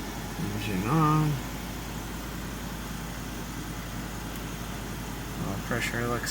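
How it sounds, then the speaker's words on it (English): A 2015 Ford F-150 with the 5.0L Coyote V8 idles steadily in a garage after an oil change, a low, even hum with brief voices heard near the start and end. "Engine on."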